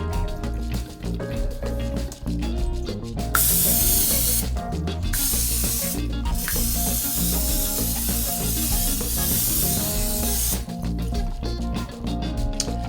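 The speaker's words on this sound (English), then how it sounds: "I'm using a butter flavored non-stick cooking spray." Butter-flavored non-stick cooking spray hisses onto a cake pan in several bursts, a close, bright spraying sound heard over background music.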